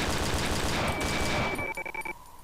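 A rapid string of gunshots in the horror game Cry of Fear, loud dense firing that rattles on before breaking into a few separate shots and a ringing tone, alone without talk.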